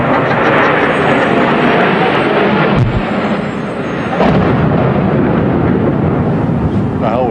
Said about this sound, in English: It sounded like a plane crash.